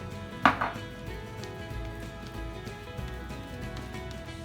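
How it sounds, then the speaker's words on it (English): Fork mashing a banana in a bowl for banana bread, a single sharp clack followed by soft, irregular squishing and tapping, quiet and close. "While Dylan is mashing up that last banana."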